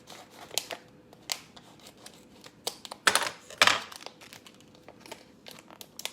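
Scissors cutting open a plastic food package for a veggies-and-feta dish, with a few crisp snips and crinkling plastic, the loudest two cuts close together midway, all close and fairly quiet with no talking.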